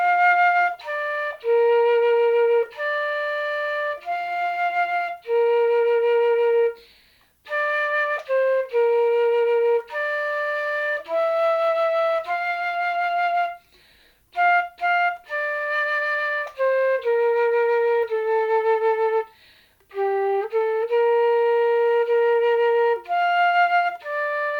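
A flute plays the first section of the Star Spangled Banner alone, a clear solo melody of sustained notes with brief pauses between phrases.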